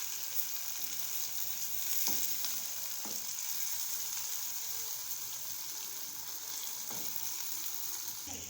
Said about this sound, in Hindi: अब जो है प्याज को ब्राउन कर लेंगे अच्छी तरह से